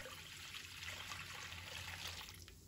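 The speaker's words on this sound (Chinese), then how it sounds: "接下来我们起锅倒入清水" Clear water pours into a cooking pot in a kitchen, a soft, steady trickling stream heard quietly and alone.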